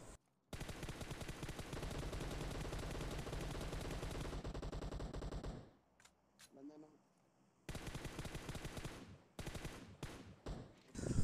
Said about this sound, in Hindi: मेरे आगे से फायर हो रहा है मेरे साइड से फायर हो रहा है